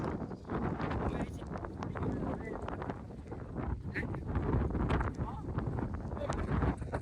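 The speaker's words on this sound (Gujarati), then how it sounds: "પવન તો જો આવે." Wind gusts across a rainy hilltop at Osam Hill, buffeting the microphone in loud, uneven rushes throughout, with faint voices underneath.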